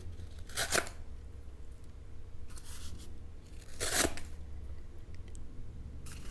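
An Eafengrow EF161 fixed blade knife slicing through material, two distinct rasping tearing strokes close to the listener with a fainter scrape between them, set against quiet room tone.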